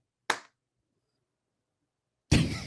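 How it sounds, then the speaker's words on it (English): Two sharp hand claps about two seconds apart, close and crisp against near silence, the second one slightly fuller and longer-ringing. "let me clap"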